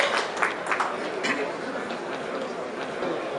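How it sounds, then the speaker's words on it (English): Applause from a conference audience at the LAF event as a speaker is introduced, a diffuse wash of clapping with some chatter mixed in, moderately loud and steady throughout. "Please give him a round of applause."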